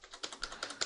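Keys clatter on a computer keyboard in a quick run of typing, several distinct clusters of taps at close range with no voices.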